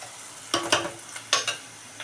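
Onions frying for a potato curry as tomato pieces go into the pan, with a steady sizzle and several loud stirring scrapes in two pairs over the hiss, no talk.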